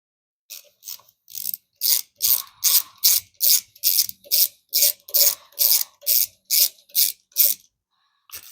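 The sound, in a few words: T20 Torx driver removing screws on a motorcycle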